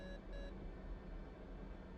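Electronic cockpit beeps from an F/A-18C during its built-in test, two short tonal bleeps in the first half second, then steady ambient hum with no talk.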